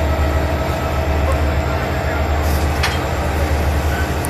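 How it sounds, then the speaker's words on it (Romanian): A railway carriage at Săcel station in Maramureș, Romania, gives off a steady, loud rumble with faint metallic squeaks, as if rolling or idling close by. "Acolo în față este un vagon 2068, seria 2068, care este salon."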